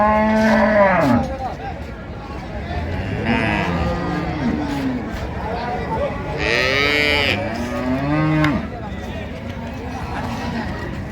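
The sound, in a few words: cows mooing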